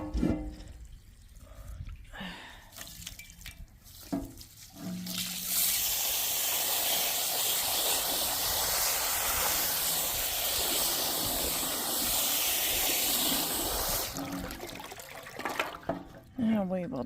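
Water gushes from a hose into a mud-clogged hole where birds splash after dust baths, a steady loud rush lasting about eight seconds, with a voice talking before and after it.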